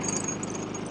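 A Predator 3500 inverter generator runs steadily, heard up close by its exhaust as a fairly quiet, even engine hum with a faint high whine.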